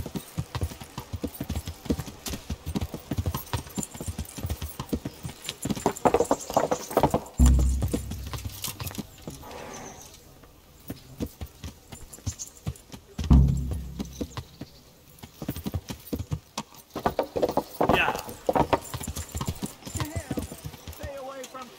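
Horse hooves clip-clop in the medieval role-playing game Kingdom Come: Deliverance, a steady rhythmic trot running under frequent talk with a couple of louder thumps and a possible whinny.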